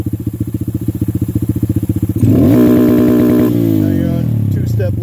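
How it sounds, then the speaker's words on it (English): A Honda Grom motorcycle's engine pops and stutters in a rapid, steady rhythm against a two-step launch control limiter, then swells into a loud, sustained rev at close range. "now you're on two-step launch control"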